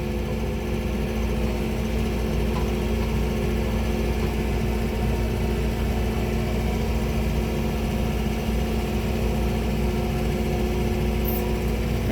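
A John Deere tractor engine drones steadily while it pulls a TR3 drag over a gravel driveway, a loud continuous low rumble with no breaks, close and without talk.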